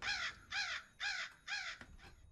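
Crows caw harshly four times in a steady rhythm inside the horror game Remothered: Broken Porcelain, each call loud and close, followed by a couple of short clicks.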